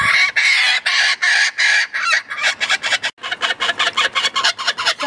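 A hand-reared rooster crows loudly close by, then breaks into a quick run of rhythmic clucks.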